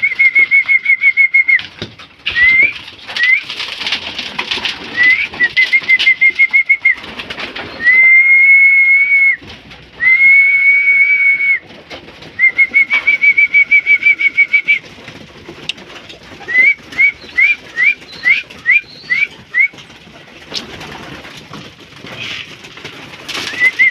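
Pigeons are called in for feeding with repeated sharp whistles, long sustained tones and then a quick series of short chirps, while soft cooing and occasional wing flaps come from the birds nearby.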